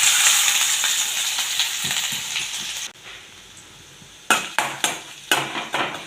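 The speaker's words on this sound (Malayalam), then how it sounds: "കുറച്ച് വെളിച്ചെണ്ണ ഒഴിച്ചു കൊടുക്കട്ടെ ഒരു രണ്ട് മൂന്ന് വെളുത്തുള്ളി ഇഞ്ചിയും ഒരു പച്ചമുളക് കൊടുത്തിട്ടുണ്ട് അത് ഇട്ട് കൊടുക്കട്ടെ" Garlic, ginger and green chili fry in coconut oil with a steady close sizzle that fades, followed by several sharp clinks of a utensil against the pan.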